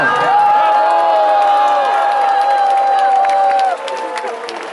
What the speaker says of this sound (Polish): Ja bardzo proszę o oklaski dla młodych ludzi, którzy tu dzisiaj są.